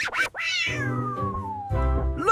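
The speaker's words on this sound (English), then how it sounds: "Meow!" A cat gives one clear, drawn-out meow that rises and then slowly falls, loud and close, with no other sound around it.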